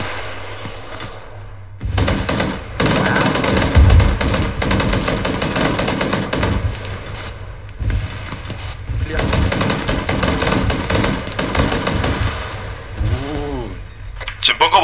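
Heavy automatic gunfire in ArmA 3 during a night assault on a Russian mobile nuclear missile launcher, long rattling bursts with brief gaps, while people talk over the shooting.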